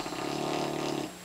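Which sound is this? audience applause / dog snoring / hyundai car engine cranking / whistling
dog snoring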